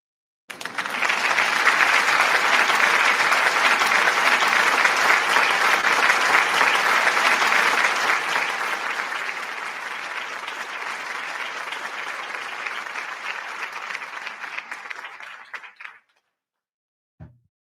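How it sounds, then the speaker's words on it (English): A podcast audience breaks into loud, dense, sustained applause that lasts around fifteen seconds, fades slightly toward the end, then stops abruptly. "give Paige a round of applause"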